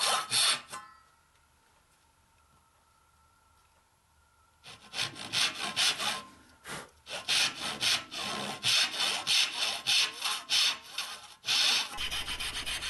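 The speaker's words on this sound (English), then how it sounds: "I'll start cutting the pins by working all the way down in one direction and then coming back and sawing" A hand saw cuts dovetail pins in wood for a tea chest: after a short stroke and a near-silent pause, steady back-and-forth rasping strokes follow in an even rhythm, close and clear.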